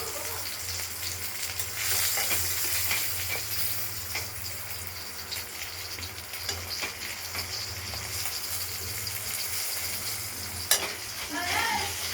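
Pieces of fresh rohu fish fry in oil in a pan, giving a steady sizzle. Occasional clicks and scrapes of stirring and a low hum run underneath.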